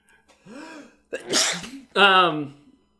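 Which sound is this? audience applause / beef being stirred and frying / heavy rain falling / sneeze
sneeze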